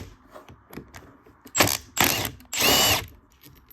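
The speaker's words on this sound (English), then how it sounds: "I'm going to be using my M12 Impact just to take these front cover bolts off" A Milwaukee M12 impact driver loosens front cover bolts during a Honda RBC VTC gear rebuild, giving three close, loud bursts of rapid hammering, the last one longest, with light tool clatter beforehand.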